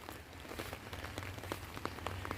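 Rain falling on a garden and flower beds, a soft, faint patter of scattered drops tapping on surfaces, irregular and quiet, with no voices.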